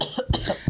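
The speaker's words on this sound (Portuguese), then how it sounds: "Consegui ficar sem tossir, mas no final já não estou aguentando mais" A few short, close coughs from an adult in a podcast interview setting, three bursts in quick succession, fairly loud and isolated without talk.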